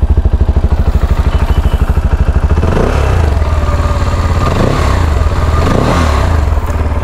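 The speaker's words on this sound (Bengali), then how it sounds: "এখন বাইকটার একটু সাউন্ড শোনায় আপনাদেরকে" A CF Moto 300SR motorcycle runs close and loud, its exhaust thumping in an even rapid pulse before the engine note swells in a few moderate revs and settles back, with no voices.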